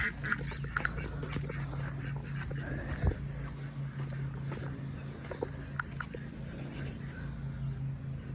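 Ducks quacking outdoors in a natural setting, a few calls scattered over steady low ambient noise, with occasional soft footsteps or rustling nearby.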